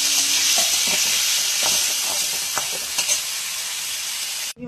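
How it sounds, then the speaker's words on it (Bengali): Prawns marinated in salt, turmeric and lemon juice fry in hot oil in a pan, giving a loud, steady sizzle and hiss with a few soft stirring scrapes throughout. "এরপর আমি চিংড়ি মাছটাকে ভালোভাবে ভেজে নেব।"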